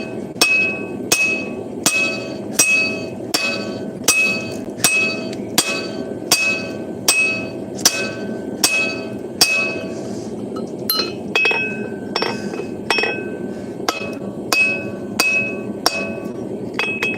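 A 5.5 pound hammer swung hard strikes metal during forging, ringing out in steady, evenly spaced clanks of bright metallic tone, close and loud, with the rhythm breaking into looser, irregular hits toward the end.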